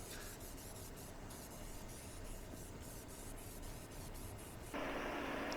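Steady hiss of white spray paint being sprayed onto wood trim pieces, a continuous close airy spray running for several seconds and growing louder near the end.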